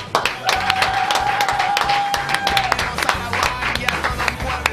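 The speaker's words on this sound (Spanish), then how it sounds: "Este aplauso es para vos, Sergio." Applause from a studio audience on an Argentine political talk show, a dense steady wash of clapping at close range that fills the whole stretch, with a faint whistle-like tone early on and no speech.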